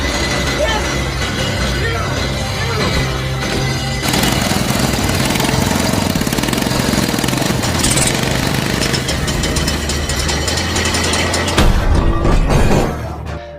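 A homemade early motorcycle engine is cranked over, making a loud, steady mechanical chugging with a harder rattling stretch near the end, mixed with background sound.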